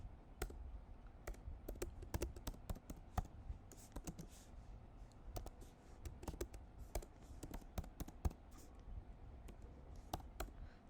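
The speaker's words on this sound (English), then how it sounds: "So let's type in the text widget." Steady typing on a computer keyboard, with quick, close key clicks in an uneven rhythm throughout and no talking.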